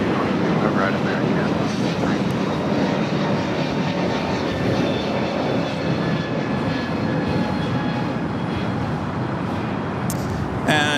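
An airliner taxiing at LAX airport, a steady loud engine roar with a broad rumble that holds throughout, heard alongside a person talking.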